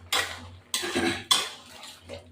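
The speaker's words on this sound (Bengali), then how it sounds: "এবার আমি নাড়া দিচ্ছি" A spoon scrapes and clanks against a pan while stirring a thin prawn and ridge gourd curry, three or four sharp metallic knocks and scrapes close up, no talk.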